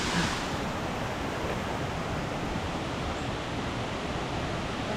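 A waterfall on the island of Lombok gives a steady, dense, full roar that holds unchanged throughout with no voices.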